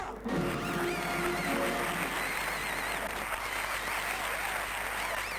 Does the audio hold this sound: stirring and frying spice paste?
no